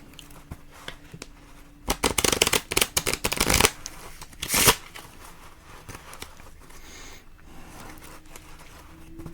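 A burst of rapid riffling card shuffles, crisp and close, followed by a softer second riffle, then quiet handling noise.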